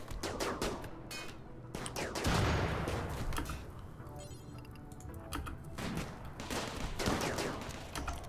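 Colonists in the video game RimWorld exchanging gunfire in bursts of cracking shots, some in rapid volleys, others spaced apart, fairly close, with no talk.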